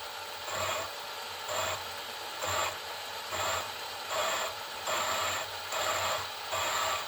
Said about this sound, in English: that sound is from the very small stones in that grinding compound grinding between the two faces of steel